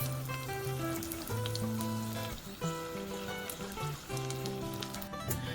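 Beer-battered shrimp fry in oil with a steady crackling sizzle, faint and constant, alongside soft background music.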